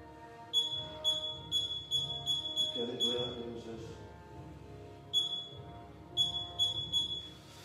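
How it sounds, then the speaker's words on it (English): A digital workout interval timer beeps in short high-pitched groups of electronic tones at a home workout, with a brief voice in the middle and the beeps returning near the end. "I'll set my fancy new little timer."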